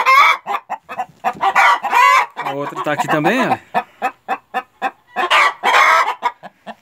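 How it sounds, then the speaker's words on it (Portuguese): Hens in a henhouse, restless and wanting to lay eggs, cluck loudly in repeated sharp bursts and drawn-out cackles close by, while a person briefly speaks over them. "E hoje eu estou mostrando para vocês aqui a festa aqui no galinheiro que as galinhas fazem."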